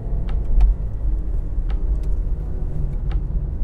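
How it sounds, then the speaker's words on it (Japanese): Honda Insight IMA hybrid cruising while held in second gear, a steady low engine and road rumble filling the cabin with a few faint clicks over it, no voices. "もうずっと今だったら2速固定で走ってるんですが"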